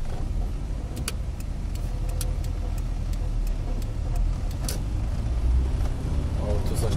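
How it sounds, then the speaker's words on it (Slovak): A car in light snow runs with a continuous low engine drone and rumble, loud and close, with faint clicks and ticks scattered over it. "Auto sa štandardne rozbieha."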